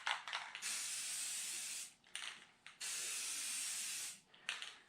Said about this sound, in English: Just a light haze coat for the first one to get it on there